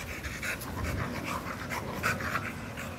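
A dog in a pack pants rapidly and steadily, close and fairly loud, with quick rhythmic breaths over outdoor background noise.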